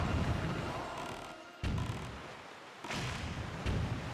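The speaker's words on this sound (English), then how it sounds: "that turret just shot its friend" Turret cannon fire in The Legend of Zelda: The Wind Waker HD at sea near Six Eye Reef, heavy booming blasts at intervals over a constant rumbling background, with no talk.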